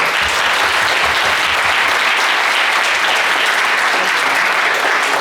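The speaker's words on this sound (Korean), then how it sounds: "하나님 앞에 한번 박수" A church congregation at a Christmas Eve service breaks into loud, sustained applause, dense and even for several seconds with no break, close and enveloping.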